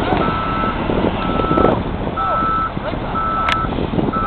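A bus stuck in a heavy snowstorm gives steady, evenly spaced reversing beeps over loud engine rumble and wind noise, sounding close and continuous.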